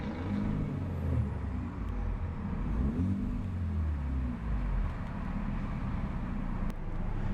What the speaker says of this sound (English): A much deeper and much more bassy rumble from that 2-liter 4-banger.